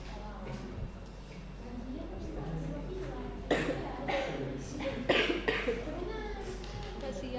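A few scattered coughs rise out of a classroom murmur of voices, with brief louder bursts near the middle and later.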